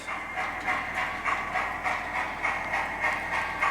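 A Hornby R3603TTS "Lord Nelson" model steam locomotive with sound runs at reduced speed, pulling eight carriages, giving off an even, rhythmic chuffing with a soft metallic clatter at moderate volume.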